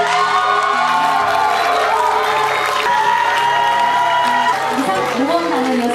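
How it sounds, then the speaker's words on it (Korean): Applause and cheering from an audience at a youth volunteer corps closing ceremony, a steady crowd wash lasting throughout, mixed with voices and a musical backdrop. "박수 부탁드립니다"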